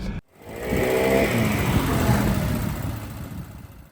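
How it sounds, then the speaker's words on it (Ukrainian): A large, powerful car engine fires up from cold after a brief pause and settles into a deep, throaty bass rumble nearby, holding steady before easing slightly. "Момент холодного старту він дає такий гарний, гарний бас, я б навіть сказав, такий серйозний рик."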